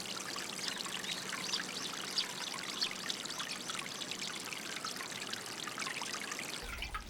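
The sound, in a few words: water flowing in a village channel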